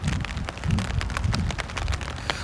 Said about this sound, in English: Kind of want to just listen to the sound of the rain falling a little bit.